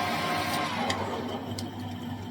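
Compressed air hisses steadily as it blows off a metal pipe on a handmade Triton featherbed cafe racer frame in a workshop, a continuous close rush with a few brief sharper bursts over a low machine hum.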